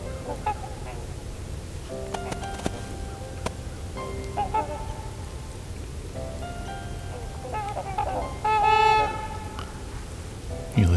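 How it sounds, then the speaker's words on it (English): Trumpeter swans give scattered nasal, horn-like honks outdoors at moderate distance, single calls and short bursts with a louder cluster near the end, over low background noise. "some trumpeter swans."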